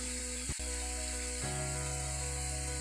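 Curry leaves dropped into hot coconut oil for a hog plum pickle, a steady close sizzle and hiss that swells a little as they hit the oil, alone without talk.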